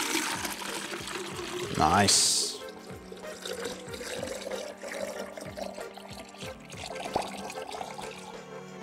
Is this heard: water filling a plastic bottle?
yes